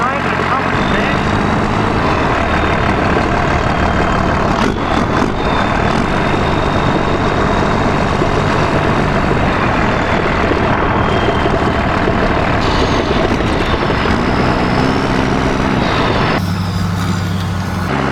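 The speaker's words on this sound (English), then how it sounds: "What a place to drive in a Cummins, man." Cummins diesel truck engine droning steadily and loud throughout, a heavy low rumble with some chatter, while people talk over it.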